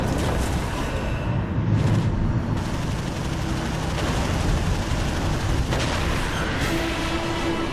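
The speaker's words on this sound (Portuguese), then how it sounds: "e o resultado é uma enorme bola de fogo" A heavy, sustained roar of a large aerial explosion and burning fireball from 30 mm cannon fire, dense low rumble filling the whole stretch with no speech.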